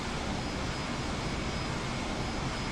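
Airplane engine in the X-Plane flight simulator during a flight from Hungary to Tuscany, a steady, loud droning roar that holds evenly throughout with no voices.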